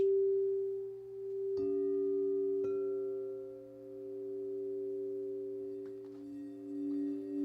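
Two crystal singing bowls tuned to 432 Hz ring together in a steady, layered hum, with two soft strikes early on renewing the sustained overlapping tones.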